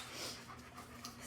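An 8-week-old German Shepherd puppy pants steadily in a playpen, quick rhythmic breaths, close and fairly faint, with a faint hum underneath.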